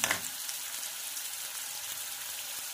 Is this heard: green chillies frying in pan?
yes